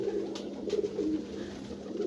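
A pigeon on a rooftop coos in soft, low repeated phrases, faint and close against a quiet steady background.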